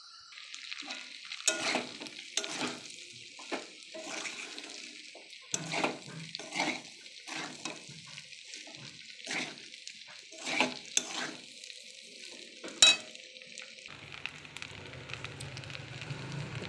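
Pasta and fried vegetables are stirred in a pan, giving a soft sizzle beneath repeated scraping strokes that come in an uneven rhythm. The sound is quiet and close, with no talking.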